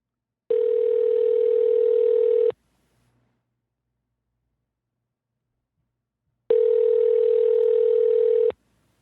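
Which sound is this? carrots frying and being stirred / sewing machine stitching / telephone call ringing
telephone call ringing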